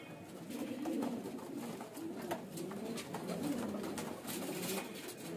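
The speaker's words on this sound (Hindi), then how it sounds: "मुझे नर लगता है क्योंकि गुटकता भी है।" A male pigeon offered for sale coos in soft, repeated, low rolling phrases, heard close up over a quiet background for several seconds.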